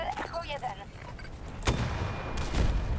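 Gunfire in Battlefield 2042 aimed at a hovercraft, two sharp loud shot bursts about a second apart ringing out over busy game noise, with a voice talking at the start.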